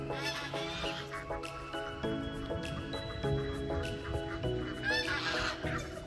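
Geese and ducks honking repeatedly in a busy flock, calls overlapping near and far with steady outdoor background noise.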